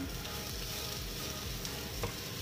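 Water bamboo shoots and carrots stir-fry in a pan Taiwanese style, a steady soft sizzle with faint scraping as they are stirred, no voices.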